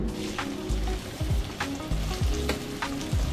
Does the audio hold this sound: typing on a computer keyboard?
no